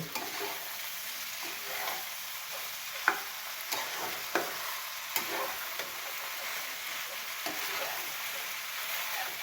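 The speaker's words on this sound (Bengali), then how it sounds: "পাস্তা দেওয়া শেষ, পাস্তাটা নেড়ে নেব।" Pasta being stirred in a pan, a soft continuous sizzle with scattered light scrapes and taps from the utensil, fairly faint and close, with no talking.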